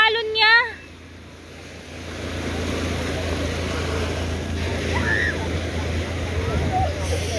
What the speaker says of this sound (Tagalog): Ang lakas ng alon niya.